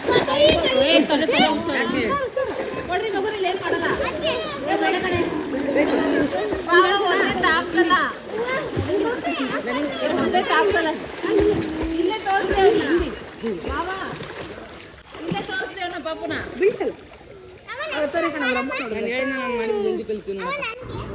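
Children play in a swimming pool, with water splashing from jumps beneath a steady crowd of excited young voices shouting and talking close by throughout.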